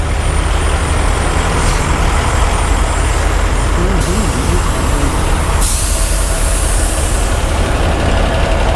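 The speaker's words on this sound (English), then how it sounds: "So as you can see here, there's a lot of trucks already." Heavy trucks idle in a large truck stop parking lot at Iowa 80, a dense, loud low diesel rumble with hissing air-brake-like bursts. A voice sounds briefly partway through, and the noise grows brighter near the end.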